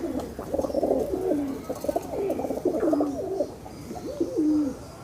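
A 25-year-old pigeon cooing in a loft, repeated soft throaty coos in a steady rhythm, close and clear with no talking.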